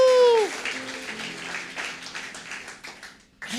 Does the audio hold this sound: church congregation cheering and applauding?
yes